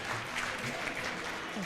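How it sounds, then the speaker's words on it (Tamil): Brief, moderately faint applause from an audience at a gathering forms a steady crackling wash of many hands with no pauses. "பெரிய கைத்தட்டு."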